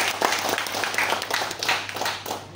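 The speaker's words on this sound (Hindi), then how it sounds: "तो जोरदार तालियां साथियों।" An audience at a healthcare business meeting in Ranchi, Jharkhand gives a round of applause, many hands clapping in a dense, uneven patter that swells and dips, with a low steady hum underneath.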